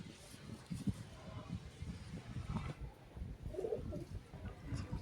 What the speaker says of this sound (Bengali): পরবর্তী মাদি পায়রাটা দেখুন